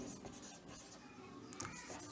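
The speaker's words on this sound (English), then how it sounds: "And here we write concave lens" Pen or marker scratches across a surface, writing out the words concave lens, a faint, close, continuous scraping with small uneven strokes over about two seconds.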